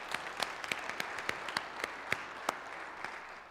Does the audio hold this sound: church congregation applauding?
yes